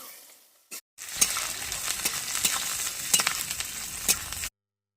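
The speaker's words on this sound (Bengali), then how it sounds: "পেঁয়াজটাকে ভালো করে লাল লাল করে ভেজে নেব।" Chopped onions hit hot oil with a loud, close sizzle, full of sharp crackles and pops that keep on steadily before cutting off abruptly into silence.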